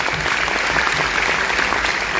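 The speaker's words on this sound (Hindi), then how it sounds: "गली में कपड़ा बेचने वाले इंसान के लिए जोरदार ताली होना चाहिए।" An indoor audience breaks into loud, sustained applause at a gathering, dense clapping from many hands filling the room without pause.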